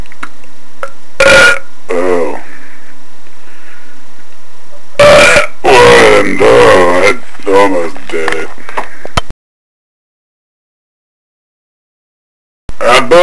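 Belching from a drunk person during a comic skit, loud close burps and gurgling throat sounds scattered across the first half, mixed with voice-like noises, then silence before a brief return at the end.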